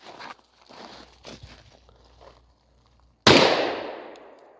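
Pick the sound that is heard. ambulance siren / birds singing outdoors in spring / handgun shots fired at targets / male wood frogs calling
handgun shots fired at targets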